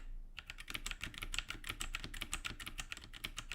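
Fast, continuous typing on a computer keyboard, dense rapid key clatter close to the mic throughout with no talking.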